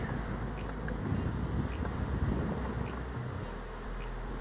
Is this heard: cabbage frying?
no